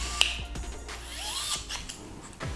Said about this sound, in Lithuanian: Taigi išties neblogas atsuktuvas, atsukant smulkius varžtelius.